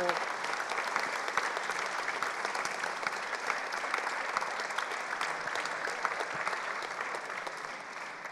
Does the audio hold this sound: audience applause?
yes